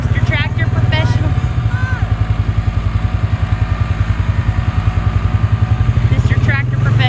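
Farm tractor engine running close by while handling hay piles, a loud, steady low throb with fast regular pulsing, with someone talking over it at the start and near the end.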